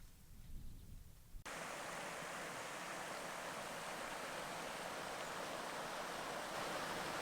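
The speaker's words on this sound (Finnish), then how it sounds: "Hieno puro kyllä kerta kaikkiaan. Ja kirkasta vettä." Steady rushing of a flowing clear-water stream in Finnish wilderness, broadband and continuous, starting abruptly after a quieter moment and holding close and loud without pause.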